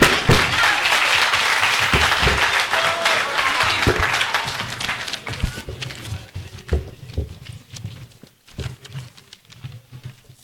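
Applause from the audience at a provincial debate competition after a speaker finishes, a loud, dense wash of clapping that gradually thins into scattered individual claps.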